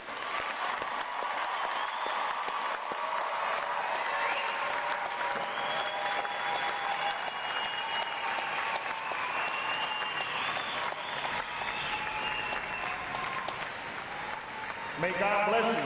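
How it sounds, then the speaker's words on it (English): Long, sustained applause from the audience at a U.S. Navy boot camp graduation for 875 recruits, a steady wash of clapping mixed with crowd voices and cheering that continues throughout and swells near the end. "their final round of applause."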